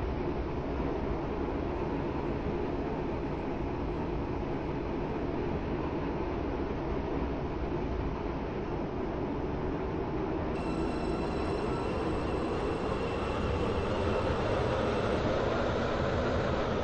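A Class 801 passenger train running between St Helens Bridge and Benton in a train simulator game: a steady, loud rumble of wheels on track with a continuous broadband roar and faint squealing, unbroken throughout and without voices.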